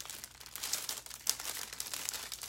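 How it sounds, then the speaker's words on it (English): Fingernails rub and crinkle marbled foil pressed into the grooves of a wooden hutch or table during a furniture makeover, a close, soft, continuous scratchy rustle with no talking. "I'm running my fingernails around the grooves here just to get a little more detail in."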